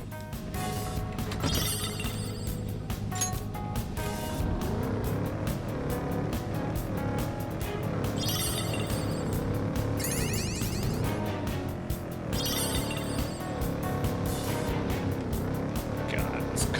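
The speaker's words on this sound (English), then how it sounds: "God, this car's handling like butt today," In Persona 5 Royal a car drives on with a steady engine hum and occasional surging revs, heard under continuous background music while a person talks.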